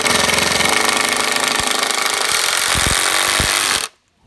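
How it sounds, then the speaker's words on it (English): Power driver sinking screws into a wooden pallet outdoors with no pilot holes: a loud, continuous motor whine with a few sharp clicks near the end, then it cuts off abruptly into silence. "you can see my driver goes in, no holes required ahead of time"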